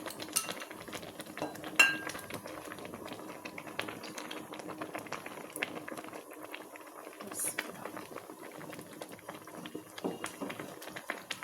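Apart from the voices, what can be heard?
lentil soup boiling in a pot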